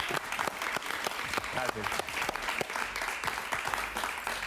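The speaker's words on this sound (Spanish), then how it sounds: "Un aplauso para él, por favor." Studio audience applause for a guest at the close of a TV interview with a host, steady dense clapping throughout with a voice speaking briefly over it.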